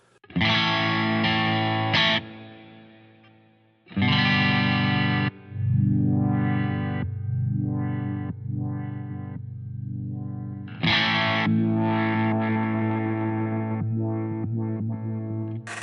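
Distorted electric guitar chords from an Ibanez RGKP6 through a '69 Plexi amp ring out with reverb, strummed in bursts with sustained decays and a few sliding notes between them, loud and alone.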